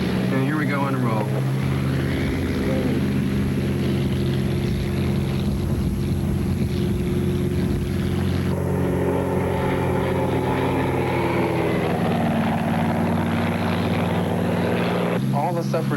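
A tow plane's propeller engine roars steadily and loudly through a takeoff roll, its drone constant with a slight shift in pitch partway through, while voices talk over it.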